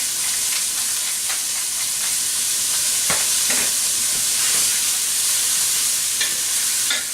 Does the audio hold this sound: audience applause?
no